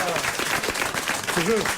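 Studio audience clapping for a speaker, a short, moderately loud patter of applause mixed with a voice talking over it.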